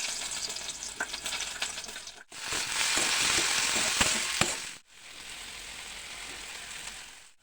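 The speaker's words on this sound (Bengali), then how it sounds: "এখানে আমি একটু সরিষার তেল দিয়ে দিয়েছি। সবজিগুলো একে একে দিয়ে দেবো।" Vegetables fry in mustard oil in a wok, a steady hiss that rises in two louder stretches, with occasional spatula scrapes and clicks, and no voices.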